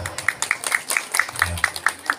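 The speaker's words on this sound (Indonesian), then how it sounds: "Boleh tepuk tangan." Applause from an audience at a school graduation ceremony, a steady run of scattered hand claps over a low murmur of voices.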